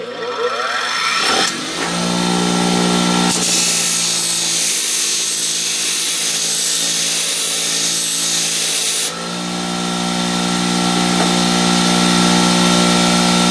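A cotton buffing wheel spins loudly and steadily as polishing compound is briefly pressed against it, a continuous motor whine with a sharper friction burst from the compound contact in the middle, ahead of polishing stainless steel.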